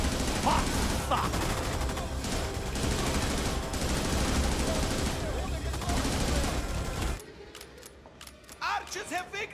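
Enemy machine gun fire in the video game Raid WWII: dense, continuous rattling bursts fill the first seven seconds, then drop away to scattered, sharper shots and clatter, with voices faintly underneath.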